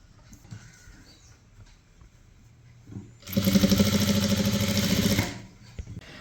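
A sewing machine stitching kurti fabric runs in one loud, rapid whirring burst of about two seconds, its needle chatter close and even, after a quiet stretch of faint rustling.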